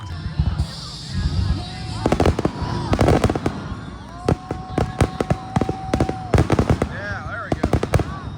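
A 2025 fireworks show in Hartwell, Georgia: loud, sharp booms and crackling bursts go off in irregular clusters, with whistling rockets rising between them and spectators talking and cheering underneath.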